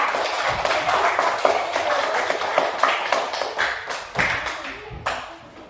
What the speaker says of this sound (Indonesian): Oke, tepuk tangannya dulu dong untuk Iboy dengan kita